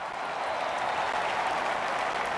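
A stadium crowd in the Don Bradman Cricket 14 video game cheers and applauds a six. The roar is loud and even and holds steady for its whole length, with no voices over it.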